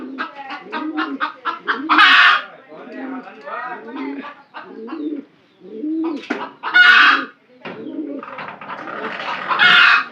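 Pigeons suffering from a cold give gurgling, throaty coos in repeated bursts at close range, while someone talks over much of the sound.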